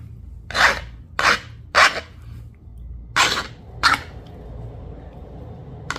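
Sharpening a Cahokia style stone hunting point by flintknapping from a pressure preform: five sharp, close scraping clicks spaced irregularly about half a second to a second apart over a faint low hum.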